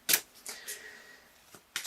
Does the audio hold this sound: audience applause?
no